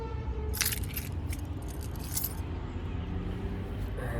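A bunch of everyday-carry pocket keys jangles in a couple of bright metallic shakes close by over a steady low background hum.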